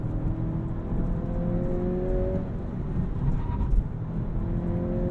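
A 2023 Acura Integra with a manual gearbox driving, heard from inside as a steady engine drone and road rumble with rising and falling engine tones, loud and continuous with no talking.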